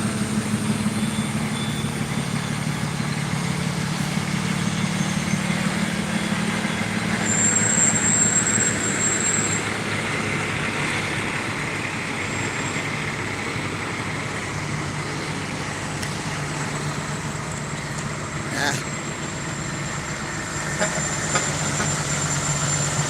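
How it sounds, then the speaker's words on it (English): Tow truck engines idle and rumble in a nighttime parade of lights in Oak Hill, West Virginia, a steady low drone of traffic with a brief high whine partway through. "A lot of tow trucks now."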